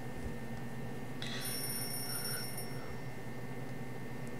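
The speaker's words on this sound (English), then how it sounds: "Somebody answer the goddamn phone!" An old-style telephone bell rings in a military video game cutscene, a steady ringing tone heard briefly over a constant mechanical hum and background noise.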